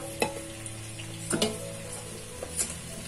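Chopped carrots dropped into a pot for vegetable soup, a quiet background sizzle with a few distinct clinks and knocks from stirring, no talk.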